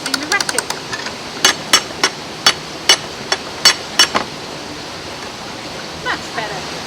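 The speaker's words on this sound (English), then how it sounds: "When they're stiff and hard to work, I can keep the momentum going by using the ratchet." A ratchet on narrowboat lock paddle gear clicks in a fast run of sharp metallic ticks, then settles into slower, evenly spaced clacks as the windlass is worked, over a steady rush of flowing water.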